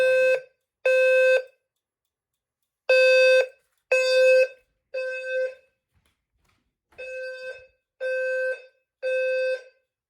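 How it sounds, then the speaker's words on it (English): A Fire-Lite sounder base on an MS-9600UDLS fire alarm panel sounds during a system test. It gives loud, harsh electronic tone bursts of about half a second in a regular pulsing pattern, with one short gap partway through, and nobody talks. "You see the sounder base still keeps going."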